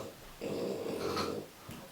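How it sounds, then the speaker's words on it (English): A French bulldog snorting nearby, one sustained raspy snort followed by a short wheezy breath, close and clear, with no talking. "If you hear my dog in the background, I apologize."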